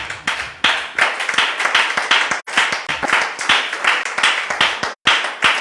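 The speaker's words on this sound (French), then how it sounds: "Acclame le Seigneur si la parole te fait du bien" Church congregation clapping steadily in a rhythmic, lively beat, many hands together filling the room, with two brief pauses and a faint voice underneath.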